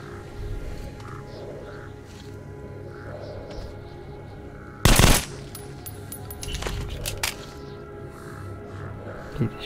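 Gunfire in the shooter game Metro Last Light: one loud, dense burst of automatic fire cuts in midway over a steady low game ambience, followed by scattered fainter shots and clatter.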